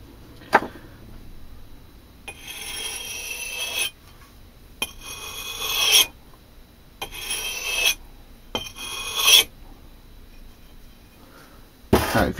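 An axe head is rubbed on a budget sharpening stone in repeated rasping strokes, four bursts of a few seconds each with short pauses between, close and fairly loud, plus a few sharp knocks.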